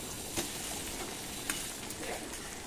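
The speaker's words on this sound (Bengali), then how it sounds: "ডিমের বড়াটা অন্যদিকে আমি পাল্টে দিলাম।" Egg fritters sizzle steadily in a hot pan, with a couple of brief spatula scrapes and taps as they are flipped over; no voices.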